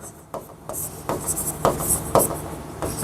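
Chalk or marker scratching across a board during a Class 9 maths lesson, several short strokes and taps in quick irregular succession, close and moderately loud, with faint room noise between.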